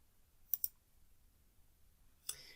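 A computer mouse double-clicks on a software icon in a school webinar, two sharp near clicks in quick succession followed by a fainter click-like rustle a moment later, in an otherwise quiet room.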